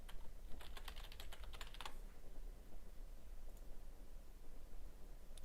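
Password keys tapped on a computer keyboard while administering a Windows Server, a quick burst of close, crisp clicks in the first two seconds, then low steady room hiss with one faint later tap.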